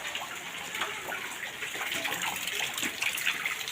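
Rainwater flowing in after heavy rain, a continuous rushing, gurgling wash of water, steady and fairly close, with no talking over it.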